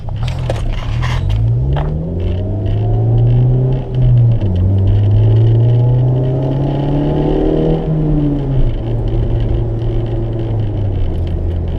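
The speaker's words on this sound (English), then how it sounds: "all the heat shields have fallen off the exhaust. That's what that rattle is." A 2000 Honda Civic SiR driving with loose exhaust heat shields, its engine rising and falling through loud, continuous rumble while scraping, crackling rattles sound over it throughout.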